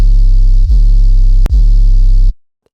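A gritty sub bass distorted with erosion and a hiss of added noise on top, held in three sustained notes separated by short breaks, for distorted riddim.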